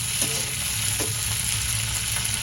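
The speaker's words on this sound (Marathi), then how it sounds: "मिरचीला ना असं डाग पडेपर्यंत आपल्याला भाजायचं." Green chillies roast in a pan with a steady, close sizzle and crackle throughout, occasional soft pops over the continuous frying hiss, with no voices.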